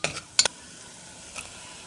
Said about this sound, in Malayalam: പൊടികൾ ജസ്റ്റ് ഒന്ന് വഴറ്റി ഇതിലേക്ക് ഇറച്ചി ചേർത്ത് കൊടുക്കാം